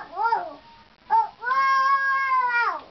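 A voice imitates a cat's meow, close and clear: a short mew, a brief second cry, then one long drawn-out meow that rises and falls.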